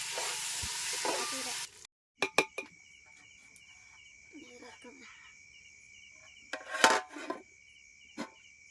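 Tomatoes go into softened onions in a pan while chicken pulao is cooked outdoors at a lakeside night camp. A loud hiss of frying lasts under two seconds, then stops, followed by scattered stirring clinks over steady chirping crickets.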